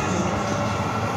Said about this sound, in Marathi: ट्रेन बघा कसं चालते एकदम दाखवतो